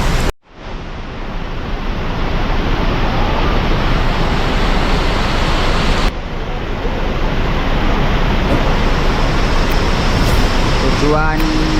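Heavy rain pours onto an intercity bus at a terminal in a loud, dense, unbroken hiss, heard from inside the bus, with a short break near the start.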